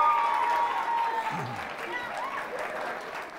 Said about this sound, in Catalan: I a més a més t'aplaudim, eh?